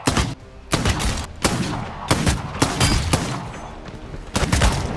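Revolver shots ring out in the vampire battle royale game Bloodhunt, a loud irregular volley of sharp cracks with short gaps between bursts, each with a booming low tail.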